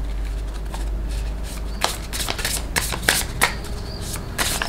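Tarot cards are shuffled up close in a series of quick riffling bursts and soft slaps, with no talk over them.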